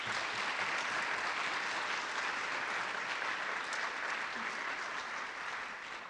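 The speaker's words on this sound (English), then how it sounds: "Let's give them another round of applause." Sustained applause from a large audience after a Dallas Black Dance Theater performance, a dense steady wash of clapping that stays loud throughout and eases slightly at the end.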